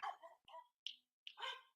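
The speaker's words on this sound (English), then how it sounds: "Here's my dog here." A dog barks close by in a few sharp, separate bursts with brief pauses between them, loud and alone with no talking.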